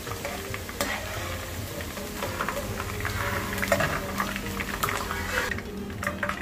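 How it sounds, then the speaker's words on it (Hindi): Vegetables frying in hot oil for a veg biryani, a dense steady sizzle with occasional stirring scrapes, loud and close throughout with no talking. "थोड़ी थोड़ी ब्राउन हो गई है ज़्यादा नहीं तलना इसको थोड़ी सी तलना ज़्यादा नहीं तलना"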